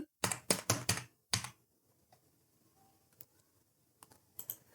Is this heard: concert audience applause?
no